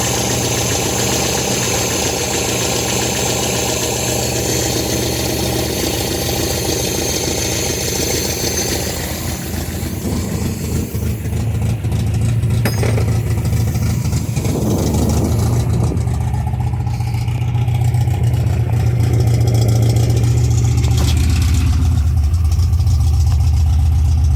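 A 1972 MGB engine idles steadily up close, a low rumbling drone that shifts in tone partway through as it settles into a deeper, even idle.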